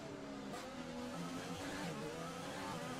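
A Formula 1 racing car engine in the F1 2020 video game revs continuously, a steady high whine with shifting pitch and a brief burst near the start, with no talk over it.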